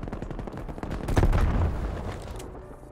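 Light machine gun fire from the MG 82 in the video game Call of Duty: Cold War, a dense rumbling burst of gunfire that swells in the middle and fades toward the end, with no talk.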